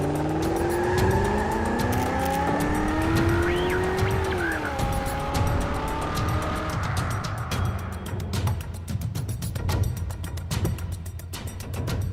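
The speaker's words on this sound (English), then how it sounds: "it's squealing tyres as our public contestants battle it out for top honours on the track" Racing cars on a track during a public contestants' challenge give loud, sliding tyre squeals over a whining engine. The squeals give way to a rougher engine roar near the end.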